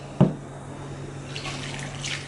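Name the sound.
water from a tap for a recipe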